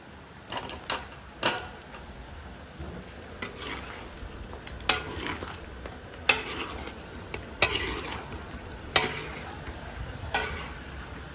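Goat meat is stir-fried in masala in a pot, with a continuous sizzle punctuated by repeated loud scraping strokes of a spatula roughly every second or two, close up and without speech.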